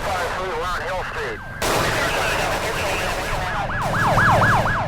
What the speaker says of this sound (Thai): มันคือเสียงปืนใช่มันคือเสียงปืนเพื่อน